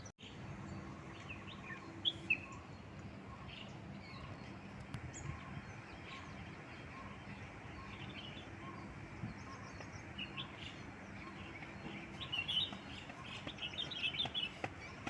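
Real birds chirping outdoors in Bangalore, with scattered high tweets and calls over a steady low outdoor hum, fairly distant, livelier near the end.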